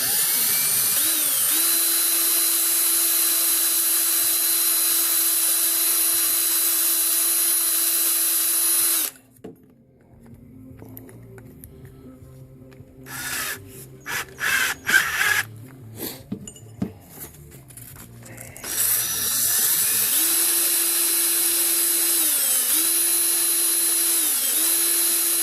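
A paracord fid wrapped in 220-grit sandpaper is spun by a power drill, giving a steady high whine that stops for a stretch of clinks and handling noises before the whirring resumes, with no talk.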